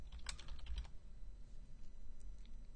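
Quick light keystrokes tap out a short burst on a computer keyboard, close and faint, followed by a few scattered presses over a low background hum.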